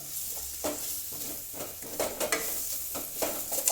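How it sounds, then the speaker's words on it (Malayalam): Kothu parotta masala being stirred in a thick, heavy pan, a steady scraping and clatter of the spoon with soft sizzling underneath, close and fairly quiet, with no one speaking. "ഇതൊന്ന് വറ്റുന്നവരെ ചൂടായി വരുന്നവരെ ഇളക്കുക."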